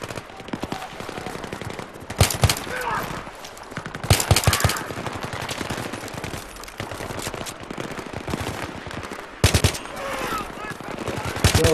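Machine gun fire in Battlefield 3, with several loud sharp bursts of rapid shots breaking through a noisy battlefield background of lower gunfire and rumble over roughly twelve seconds.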